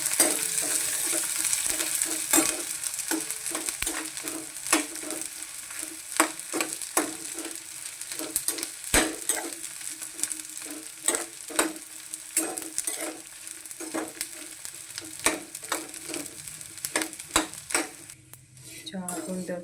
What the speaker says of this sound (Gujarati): હવે એમાં આપણે ગુંદર તળી લઈશું